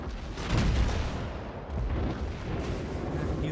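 Secondary guns of the Mikasa battleship from World of Warships fire in a dense burst of booms, loud and overlapping, with a rumbling low end that swells, dips briefly, then rolls on steadily.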